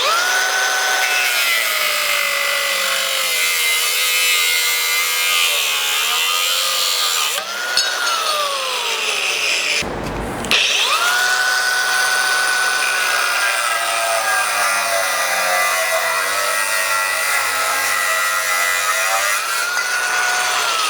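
A cutoff wheel grinds through metal brackets on a truck frame, a loud continuous high-pitched whine with a shifting tone as pressure changes, a brief pause near the middle, then the cut resumes steadily.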